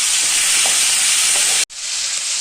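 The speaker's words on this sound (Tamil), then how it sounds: "அந்த தக்காளியும் போட்டு நல்லா வதக்கலாங்க." Tomatoes going into a pan with garlic, chili and onion for a chutney, giving a loud, steady sizzle with a few stirring scrapes; a brief cut-off interrupts it before the frying sound returns at full strength.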